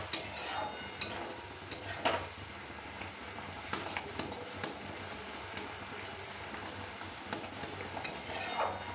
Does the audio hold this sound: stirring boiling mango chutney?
yes